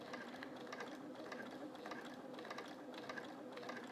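A domestic sewing machine doing roll quilting of feathers at a reduced stitch length, running steadily up close with a fast, even mechanical stitching rhythm throughout.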